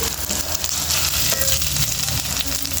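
Onions and ginger-garlic paste fry in a pan for cashew chicken fry, a loud, close, crackling sizzle broken by occasional scraping stirs.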